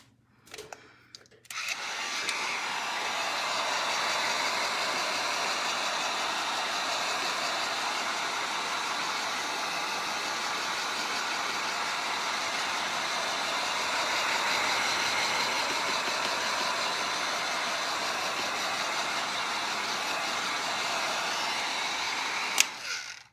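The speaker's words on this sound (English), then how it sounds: "Always be careful when you're using a heat tool, especially if it's one of these." A heavy-duty heat gun blows hot air in a steady, loud, broadband roar that starts abruptly, holds evenly for about twenty seconds, then cuts off.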